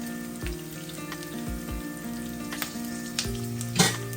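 Chopped garlic and curry leaves fry in hot oil for a Sri Lankan egg curry, a steady close sizzle broken by a few soft knocks and clinks of a utensil, with no voices.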